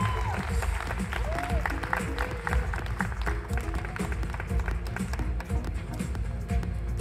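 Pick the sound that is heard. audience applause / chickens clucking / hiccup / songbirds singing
audience applause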